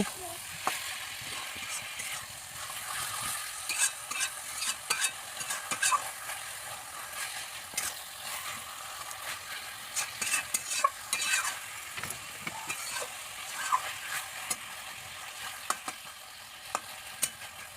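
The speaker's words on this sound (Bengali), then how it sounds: "মশলাগুলো ভালো করে মাংসের গায়ে লাগিয়ে মাংসগুলি কষিয়ে নেব" Chicken being stir-fried with spices for chicken kosha, a crackling sizzle broken up by repeated scraping and stirring strokes in the pan, close and irregular.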